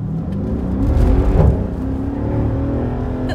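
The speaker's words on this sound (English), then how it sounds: "Exhaust note, huh?" A 2013 Mercedes-Benz SL63 AMG exhaust roars under acceleration, a loud, close, rising engine note that swells, peaks mid-way, then settles into a steady drone.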